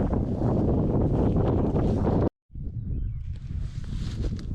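Strong wind buffets and rumbles loudly across the microphone in gusts outdoors in Scotland, dropping out briefly midway before roaring back.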